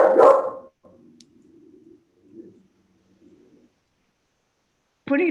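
A dog's single loud close bark, then faint low sounds and quiet, with another bark-like burst at the end.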